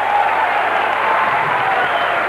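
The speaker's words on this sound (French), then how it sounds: "Le public applaudit." Audience applause at a boxing match, a steady dense wash of clapping and crowd noise filling the whole moment, loud and continuous without a break.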